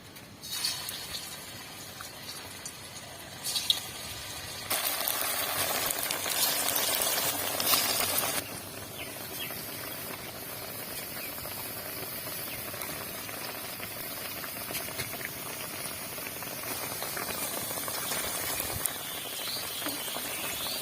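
Sago fritters (sabur bora) dropped into hot oil bubble and hiss, swelling louder for a few seconds as they go in, then settling into a quieter, steady frying sizzle with no voices.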